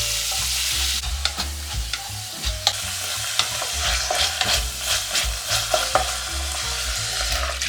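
Chopped beef stir-frying in cooking oil in a lidded pot, a steady close sizzle with frequent scraping stirs and clicks of a utensil against the pot throughout.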